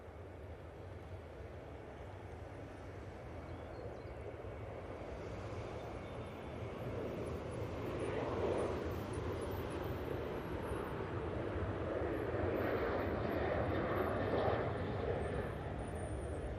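Ryanair airliner on its takeoff roll at Manchester Airport: a distant, steady broadband engine roar that builds gradually and holds, with faint talk underneath.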